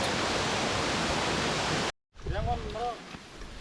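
A waterfall in the Longtharai Valley near Chawmanu, Tripura, roars as a loud, dense, steady rush of falling water for about two seconds, then cuts out abruptly to quieter outdoor ambience with faint voices.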